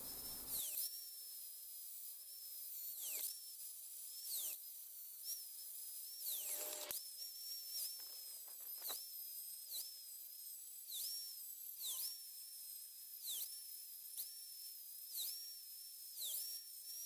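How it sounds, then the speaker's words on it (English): A grinder works the steel sides of a small hand plane, a high whining tone that dips each time the tool bites into the metal, repeating every second or so at a steady, moderate level. "Now I'll do the bulk of this with the grinder before switching over to a hand file."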